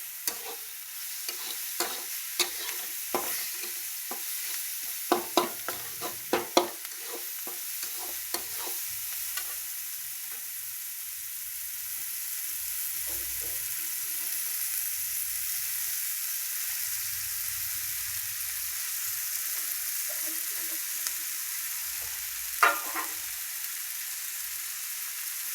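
Onion frying in a pan for poha, with a run of crisp spoon clicks and scrapes at the start, then a long, quieter, even sizzle and one more scrape near the end.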